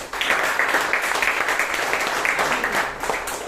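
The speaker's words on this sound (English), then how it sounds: "Please give him a big round of applause." An audience at a Toastmasters meeting in Bangalore gives a dense, steady round of applause that holds loud and even for several seconds.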